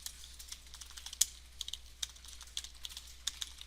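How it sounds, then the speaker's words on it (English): Continuous typing on a computer keyboard: rapid, light, close clicks in an uneven rhythm over a steady low hum, with one sharper key strike early on, no voices. "I can type."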